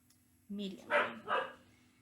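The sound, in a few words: dog barking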